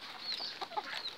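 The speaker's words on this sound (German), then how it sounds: "Frieda ist gerade ein bisschen zickig, weil Frieda will brüten." A brooding hen on the nest gives soft, short clucks in a brief, fairly quiet run, with no voices.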